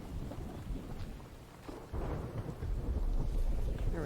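Rain and thunder in the survival video game The Infected: steady rainfall under low rumbling thunder that swells louder in the second half, with no speech.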